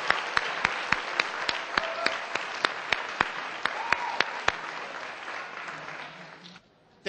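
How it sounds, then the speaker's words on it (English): Audience at a neighborhood poster contest meeting applauding, a dense steady clapping with a few loud individual claps standing out, fading away near the end. "Let's give everybody a round of applause and sit back down."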